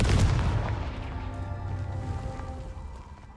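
Confringo fire spell detonating in Hogwarts Legacy, a loud booming blast up front that rolls off into a sustained rumbling decay with no talking.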